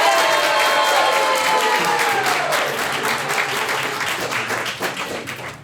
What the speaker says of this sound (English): Can we get a round of applause for Joan really quickly?